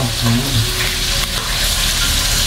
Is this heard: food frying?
yes